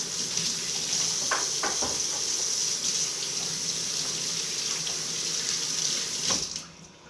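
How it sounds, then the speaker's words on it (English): Tap water runs steadily into a kitchen sink while hands are washed under it between preparing sausage pasta, with a few brief splashes and clinks in the continuous, fairly close stream. "I'm gonna go wash my hands,"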